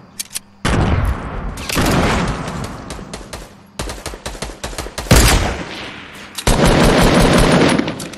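Loud, close gunshots in a PS4 video game, rapid bursts of automatic fire and single cracks that come in dense volleys broken by brief silences, with no talk over them.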